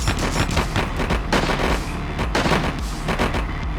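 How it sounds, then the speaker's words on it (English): Rapid video game gunfire in a riot battle, dense overlapping shots cracking continuously, loud and close with no voices. "there's definitely something firing over there"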